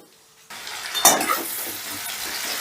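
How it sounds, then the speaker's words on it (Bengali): Spoon scraping and stirring a sizzling spice paste in a pan, starting abruptly after a brief quiet moment, with a steady frying hiss underneath. "এবারে এই মশলাটাকে আমি একটু নাড়াচাড়া করে নেব"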